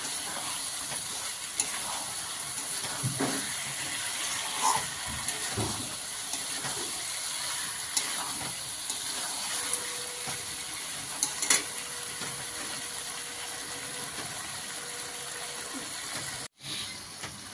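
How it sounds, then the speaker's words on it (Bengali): Tomatoes frying in a pan with ginger, garlic and green chili paste for an egg curry, a steady low sizzle and hiss with occasional stirring clatter, continuous and close. "এবার টমেটোগুলো দিয়ে দেবো একে একে। দিয়ে একটু কষাবো।"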